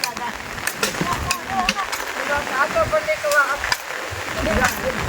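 Heavy rain pours down on a tribal village during a windstorm, a dense, steady hiss of water that fills the whole clip with no breaks.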